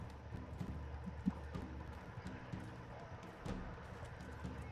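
Horse hooves gallop in Mount and Blade II Bannerlord, a quiet, rapid clatter of many hoofbeats over a low rumble, with one sharper knock early on.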